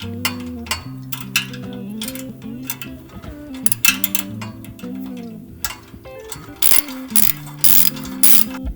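Ratchet wrench with a 14mm socket tightening exhaust spring bolts during an aftermarket exhaust install, rapid close clicking bursts in repeated strokes with brief pauses and metallic taps, no talking.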